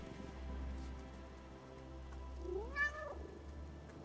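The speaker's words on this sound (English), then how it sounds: "can I pet the cat?" In the video game No Rest for the Wicked, a cat gives a single short rising meow while being petted, heard faintly over a low steady ambient hum with soft patter in the background.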